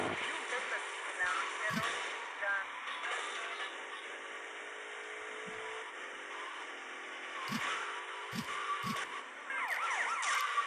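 A police siren wails in GTA Vice City, a moderately loud electronic tone running under game sounds, with a person talking over it.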